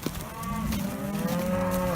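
Cattle on an icy farm during vaccinating work, one cow giving a long, close, low moo with rising tone, steady and loud over faint background noise.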